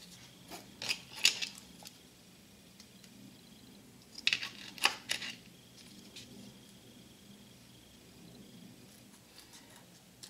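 Small scissors snip through a sheet of fiberglass to size it for a large square nail, giving a few crisp close cuts in two short clusters over a quiet background.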